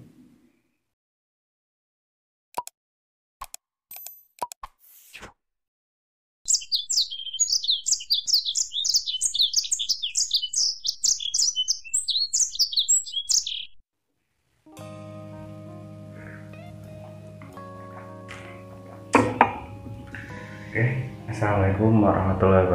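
Bursts of rapid, high chirping song from a green leafbird come after scattered clicks and are followed by a steady, droning instrumental background.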